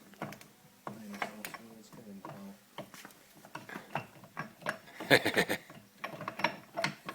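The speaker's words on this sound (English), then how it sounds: "this part of the casing with the G gear and stuff in place in the casing just lifted up into position" Gearbox casing for a VW T25 Syncro being lifted into place and bolted, giving a run of close metallic clunks, ratchet clicks and scraping knocks with a sharper cluster of impacts partway through.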